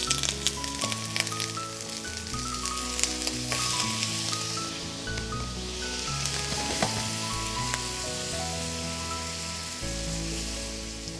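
Prawns sizzle and crackle in hot oil with garlic and chili padi, a steady loud frying hiss with stirring scrapes throughout, while background music plays underneath.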